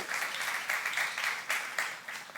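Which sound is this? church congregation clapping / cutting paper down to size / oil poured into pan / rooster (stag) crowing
church congregation clapping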